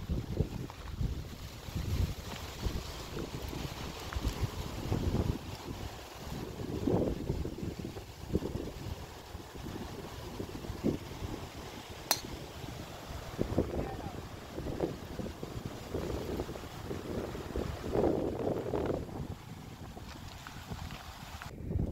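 Wind gusts buffet the microphone on an open golf course, a steady loud rumbling roar with irregular swells throughout.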